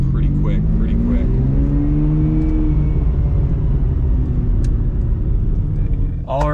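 A Ferrari 575M with a V12 engine, six-speed manual gearbox and Tubi exhaust driving, a loud deep droning rumble that rises and falls in pitch as it pulls through the revs, close and continuous.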